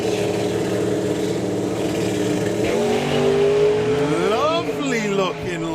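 A twin turbo V8 drag car at a drag racing meet builds revs at the start line with a loud, rising engine drone and rapid pitch sweeps, under a commentator talking over it.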